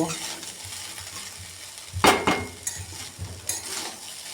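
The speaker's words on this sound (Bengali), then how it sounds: "এটা একদম ধিমা আজেতে নেড়ে চেড়ে আমি নাবিয়ে নেব" A spatula stirs egg fried rice in a pan over low heat, giving a few short scraping bursts over a quiet, faint background, with no talking.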